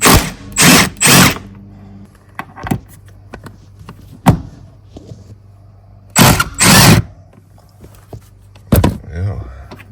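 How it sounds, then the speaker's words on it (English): A ratchet with a T50 Torx bit loosens the front seat bolts in a Toyota GR Corolla, heard as several short bursts of rapid clicking separated by pauses, with occasional single knocks and clicks nearby. "let's go ahead and remove the two bolts for the front of the seat. These are a T50 Torx bit"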